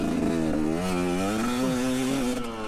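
A GPX Moto TSE250R motorcycle engine revs up under acceleration while riding, its close, steady drone climbing and dipping in pitch as the revs rise and fall, with no speech.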